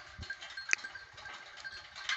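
Goats grazing in a Nepali forest, heard as a faint, scattered bleat and a brief sharp call amid quiet rustling outdoor ambience.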